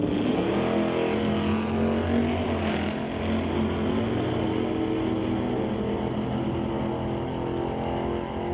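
Two drag cars, a Dodge Dart and a Chevrolet Chevelle, launch together at an NHRA Northwest National Open drag strip, a loud, sustained engine roar with dense low rumble that stays steady and close throughout, with no talk.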